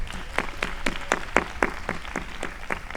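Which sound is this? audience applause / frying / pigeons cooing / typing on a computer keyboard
audience applause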